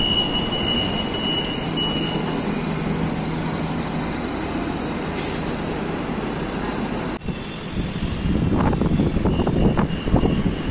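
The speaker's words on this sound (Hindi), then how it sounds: "एमजी बस स्टेशन पहुंच चुके हैं और यहां पे मेट्रो रुकने वाली है।" Hyderabad metro train pulling into MG Bus Station, a steady rumbling roar of the approaching train with some brighter squealing noise as it slows, no talking over it.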